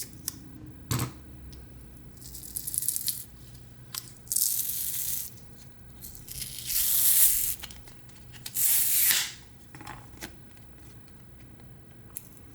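Adhesive film layer peeled off Bluedio T4s headphones, several separate bursts of sticky tearing and rasping plastic, each lasting a second or so with quiet gaps between, close up and loud.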